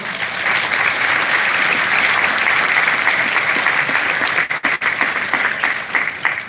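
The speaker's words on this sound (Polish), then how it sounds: "Wielkie brawa do Bartka." Loud, sustained applause from an audience honouring Bartek, dense clapping that stays level for several seconds before thinning and tapering toward the end.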